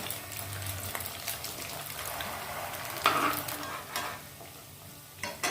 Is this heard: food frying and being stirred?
yes